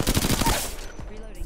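Rapid gunfire in a video game, aimed at the player, bursts loudly for the first half-second in quick repeated shots, then falls away into quieter scattered game noise.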